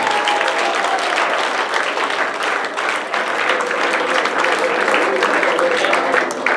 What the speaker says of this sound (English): Will somebody give the Lord a big hand clap of praise?